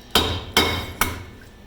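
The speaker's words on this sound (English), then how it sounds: "now I've got a bigger hammer and a better chisel for this" A big hammer drives a chisel against a brine strainer, making three sharp metallic strikes in a steady rhythm, each loud and close with a short ringing decay.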